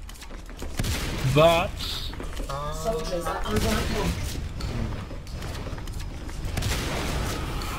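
Gunfire crackles through a video game battle as bursts of shots and booms mix with nearby voices and radio chatter, loud and busy throughout.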